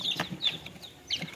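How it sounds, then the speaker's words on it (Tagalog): Newly hatched chicks peep in an incubator after hatching from chilled eggs, a run of thin high-pitched cheeps close by with soft shuffling between them. "sisiw na lumalabas"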